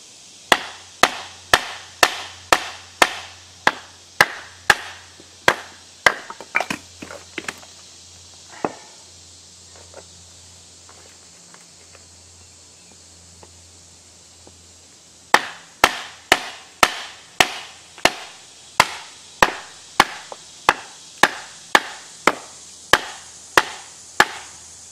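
Knives battoned through red oak make sharp, loud wooden chops in a fast regular series, pause for several quieter seconds with scattered taps, then resume the same rapid rhythmic whacks up close.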